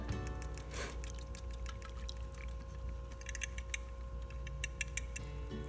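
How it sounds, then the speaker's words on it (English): Homemade butter and buttermilk are poured into a strainer with a soft, quiet trickle and scattered light ticks and clicks throughout. "I need to separate it by pouring it into this strainer that will catch all of my"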